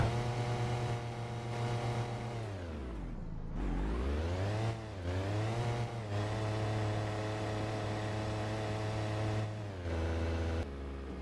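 A car engine in the video game Campsite Hustle drones steadily as the vehicle drives to the shop, its pitch dipping and climbing with shifts in speed before settling into an even hum, with no voices.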